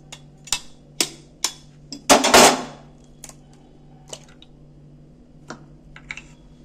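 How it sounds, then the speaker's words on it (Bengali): Eggs cracked one after another for egg momos, a series of sharp close taps on a hard edge followed by a brief wet crunch of shell breaking, then scattered faint ticks. "ডিমটাকে আমি প্রথমে ফাটিয়ে নিচ্ছি।"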